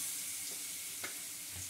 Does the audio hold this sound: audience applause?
no